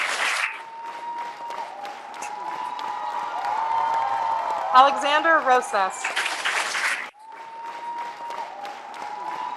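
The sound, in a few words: applause for graduates at commencement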